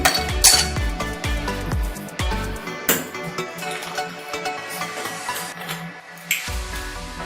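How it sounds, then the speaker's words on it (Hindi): Ice cubes clink and clatter into a glass while a Sprite mojito mocktail is made, with several sharp, close knocks and rattles in quick succession, then smaller settling taps. "अब हम इसमें आइस क्यूब्स डालेंगे।"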